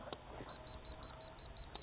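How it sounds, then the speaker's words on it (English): A dog training e-collar's buzzer setting gives a rapid series of eight short, high-pitched electronic beeps in a steady rhythm, fairly loud and close, with no voices. "You've got a buzzer"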